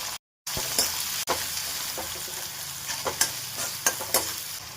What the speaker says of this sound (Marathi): फोडणीसाठी तेल टाकू, मोहरी, हिंग, ठेचलेला लसूण आणि कट केलेली हिरवी मिरची, बारीक चिरलेला कांदा टाकू